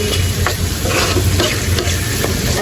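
Onions sizzle loudly in a hot pan while being stirred, with steady frying hiss and several soft scraping strokes over a few seconds.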